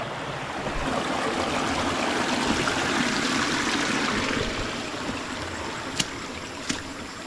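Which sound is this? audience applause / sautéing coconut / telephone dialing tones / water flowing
water flowing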